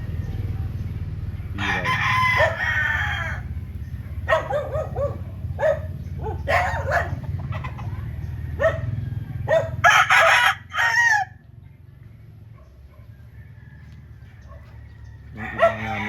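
Several gamecock breeder roosters crow in turn, loud and close, with short clucks and a dog barking now and then over steady low background rumble; someone says a word briefly.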